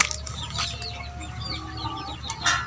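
A chicken clucks and murmurs softly after being bathed, short scattered calls over a low background hum, fairly quiet and close with no talking.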